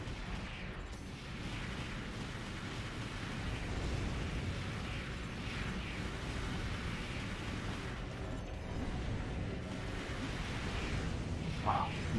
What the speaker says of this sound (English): Using a grenade launcher.